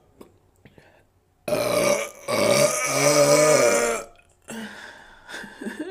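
A woman lets out a long, loud, drawn-out burp in a quiet room, rasping for about two and a half seconds with a brief catch partway through, then a shorter burp after a pause.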